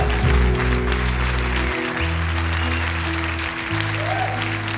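Auditorium audience applauding under a loud, low sustained musical drone, the clapping a steady textured wash with no clear shouting standing out.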